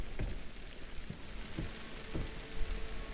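Rain falling at dusk in the video game Alan Wake 2, a steady hiss of drops on surfaces with a few soft taps, moderately quiet and continuous with no talking.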